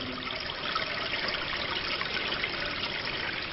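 Water running in from an outside pipe into a basement trough, a steady, close trickling gush that flows without a break, with no voices.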